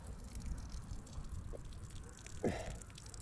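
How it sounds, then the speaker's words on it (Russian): Water pours and drips out of a boot after a fall through the ice while winter fishing, soft splashing and trickling with one louder gush near the end, faint against outdoor background noise. "Видите, льется вода."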